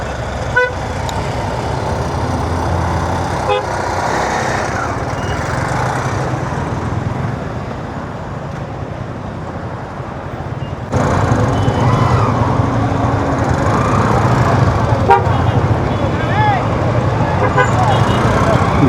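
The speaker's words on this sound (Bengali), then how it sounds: "জ্যাম আর জ্যাম ঢাকা শহরে জ্যামের রাজা ঢাকা শহর" Dense Dhaka city traffic jam with car horns tooting now and then over a constant engine rumble, a loud busy street heard from nearby with voices mixed in.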